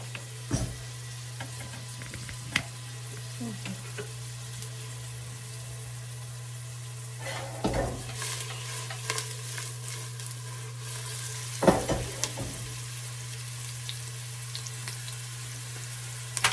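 Onion frying in a pan on a gas stove gives a low, steady sizzle under a constant hum, broken by a few sharp stirring clatters and knocks.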